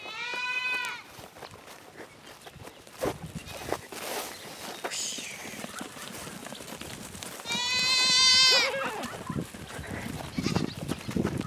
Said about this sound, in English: looks like the goats got out and Brooke needs some help.